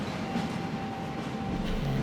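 A train in the Mumbai level of the Hitman video game gives a steady rumbling rail noise with a faint tonal whine, continuous and fairly loud for two seconds with no talk.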